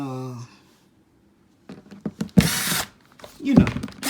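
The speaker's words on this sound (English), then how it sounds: "I drilled a few holes, like right here" A power drill bores small drainage holes in a garden container, giving two short, near whirring bursts, each under a second. A person talks before and between the bursts.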